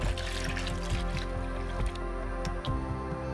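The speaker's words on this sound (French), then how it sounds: "remplir le bac à eau. Toujours avec de l'eau fraîche." Fresh water pours and trickles into the water tank of a Philips Series 3200 Iced Latte coffee machine, a steady close liquid flow with wet sloshing and dripping, no talking.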